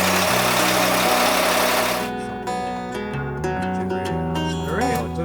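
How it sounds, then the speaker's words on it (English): An explorer yacht's engine starts up and settles into a steady, loud mechanical idle, humming on continuously without talk. "So turn the pump off, start the engine."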